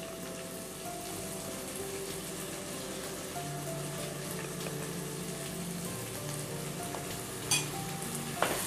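Vegetables frying in a pan for moong dal khichdi, a steady close sizzle with faint stirring and a couple of sharp clinks near the end, no talking.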